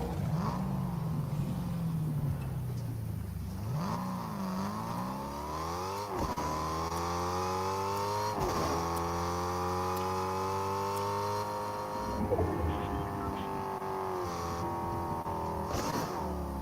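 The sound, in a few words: car engine while driving in the video game Fortnite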